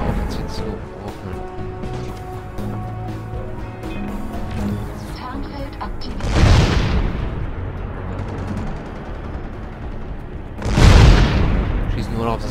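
Tank shells slam into a building in Crysis, two heavy booming impacts several seconds apart over a constant background of game music and ambience, with a voice talking throughout.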